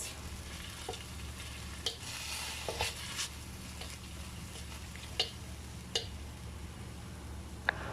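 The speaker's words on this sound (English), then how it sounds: "So we mix this." Spicy Southern Thai yellow curry paste is mixed in a dish for a chicken and okra curry, giving a soft, close stirring rustle with scattered light clicks and taps of the utensil, and no talking.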